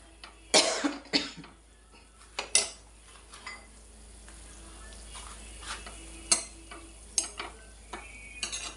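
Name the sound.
stirring semolina into boiling water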